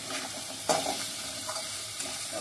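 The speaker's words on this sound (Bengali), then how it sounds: "লাউগুলো একটু নাড়ে চেড়ে তারপরে জল ঢেলে নেবো, একটু নেড়ে নেবো, ভালো করে মিশিয়ে নেবো" Bottle gourd curry with pumpkin bori is stirred in a pan: a soft, steady sizzle fills the background while a spoon scrapes and pushes the pieces in a few light strokes.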